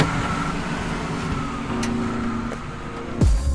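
Fiat Bravo GT car pulling away, engine note rising through a steady road rumble before a sharp drop and thump at the end.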